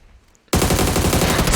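Loud, close automatic gunfire in PUBG bursts in suddenly after a near-silent moment and rattles on without pause to the end.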